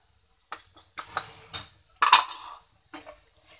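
Cauliflower tipped into a pan and stirred, giving a few separate knocks and scrapes of a utensil against metal, with one sharper, louder clatter near the middle and short gaps of quiet between.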